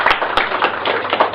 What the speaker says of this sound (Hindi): कम से कम एक ताली तो बनती है ना सर के लिए।